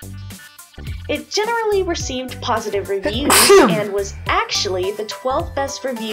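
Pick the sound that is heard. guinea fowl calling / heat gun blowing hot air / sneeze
sneeze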